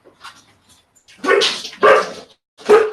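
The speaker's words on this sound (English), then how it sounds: "Oh, stop with the barking." A dog barks indoors in a few sharp, close bursts separated by short pauses, with faint whimpering sounds before the loudest barks.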